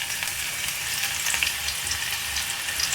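Chopped white parts of green onion sizzle in hot ghee, giving a steady, close, crackling fry with no talk over it.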